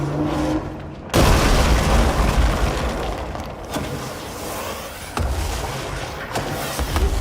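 Rocket explosions in the action video game Control, a heavy booming blast followed by continuous rumbling chaos, with further thuds and a second impact later, loud and dense throughout.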